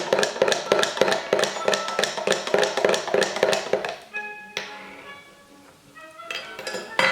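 A spoon stirs baking soda into water in a pot, tapping and clinking against the metal in a fast, even rhythm. It then pauses, leaving ringing metallic tones, before a few more clinks.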